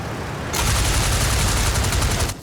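Machine guns firing in the Flying Circus flight game during a dogfight involving a Halberstadt biplane, a dense rapid burst of gunfire starting abruptly and sustained for nearly two seconds before cutting off, loud and alone.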